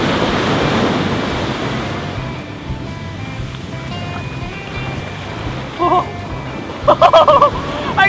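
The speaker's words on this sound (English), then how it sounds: "Get ready for a wave and I'll scoop up some water." Ocean waves break and wash up on a beach with steady roaring surf and wind buffeting the microphone, while a child-like voice shouts briefly near the end.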